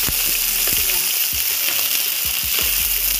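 String beans for adobong sitaw frying in oil toward golden brown, a loud, dense, steady sizzle with occasional soft low thumps of stirring underneath.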